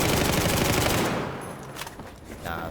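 Rapid automatic gunfire in Battlefield 4 on the Noshahr Canals map, a dense burst of shots aimed at crates that cuts off after about a second, followed by a few fainter scattered shots.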